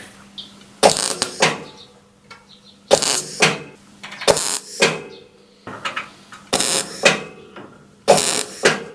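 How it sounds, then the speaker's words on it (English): Metal being welded in, tacking a part onto the Żuk body, with six loud crackling bursts about a second each, spaced by quiet gaps and faint shop noise. "I'm gonna start to weld this in"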